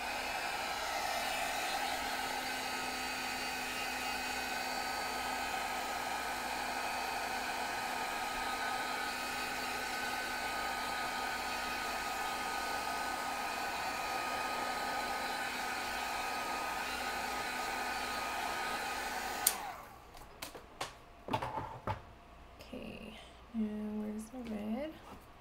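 A hair dryer blows steadily on wet paint on a canvas, a loud continuous whir for about twenty seconds that then cuts off, leaving a few soft handling noises.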